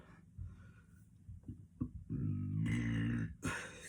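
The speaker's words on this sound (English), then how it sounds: "I have no idea where these burps are coming from, but it's 2 big burps this workout." A deep, drawn-out burp during a push-up workout, close and fairly loud, rising after a few softer grunting breaths and ending abruptly.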